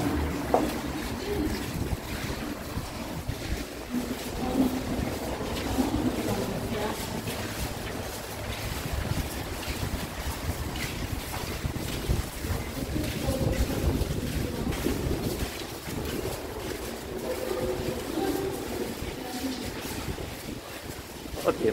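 Sea waves along a first-line beachfront residential complex in Alanya, Turkey, a steady broadband wash of surf mixed with strong wind buffeting the microphone, continuous throughout with occasional faint voices.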